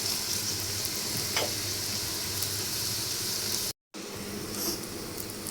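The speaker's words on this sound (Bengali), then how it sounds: "আমার পেঁয়াজ ভাজা হয়ে গেছে।" Onions frying with a little salt in a pan, a continuous close sizzle with occasional stirring, briefly cut to silence near the end before the sizzle resumes.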